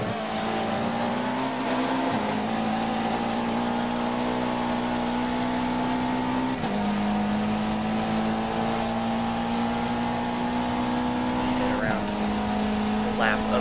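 TCR touring race cars scream past at Sebring in a steady loud engine drone with shifting pitch and gear changes, near and continuous, with a commentator talking over it.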